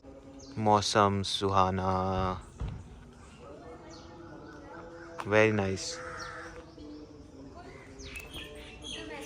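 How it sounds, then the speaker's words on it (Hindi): Birds call outdoors around a peaceful property in Chandigarh, with crow-like caws and brief chirps heard faintly under and between loud, close talk from people. "क्या बढ़िया चिड़ियाओं की आवाज़ें आ रही हैं, चूं चूं।"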